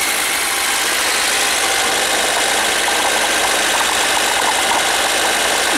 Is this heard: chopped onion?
no